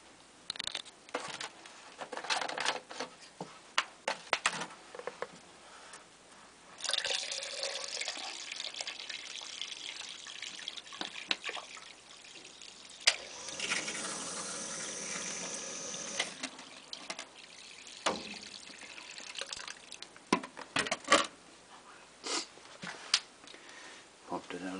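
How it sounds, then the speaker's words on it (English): Water is poured into a DIY sump pump pit, splashing and pattering unevenly at close range with a few quieter gaps and louder bursts. "I'll pour some water in it."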